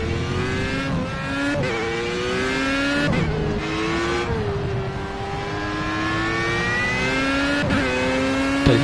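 A Formula 1 race car engine in the racing game Project Cars, a loud, high-pitched whine that climbs through the revs, with quick upshifts and brief dips as the car accelerates and brakes.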